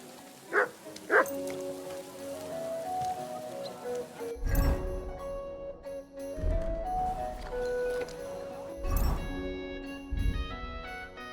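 Mutt, a dog in Kingdom Come: Deliverance 2, lets out several loud, close barks in separate bursts over steady rainfall, with light rhythmic music playing underneath.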